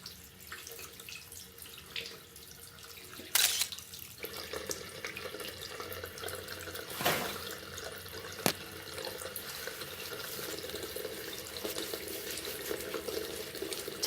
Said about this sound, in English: Rinse your hands and dry thoroughly.